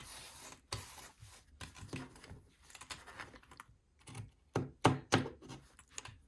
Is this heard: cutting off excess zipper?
yes